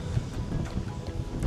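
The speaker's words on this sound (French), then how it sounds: "il y a du vent qui commence à se lever là." Wind gusting at a Thai temple, a low rumbling buffet that roars steadily across the microphone, close and fairly loud, with no talk.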